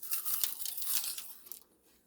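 Crisp crunching of salted, oven-baked kale chips being eaten up close, a dense run of brittle crackles for about a second and a half that then fades into quiet.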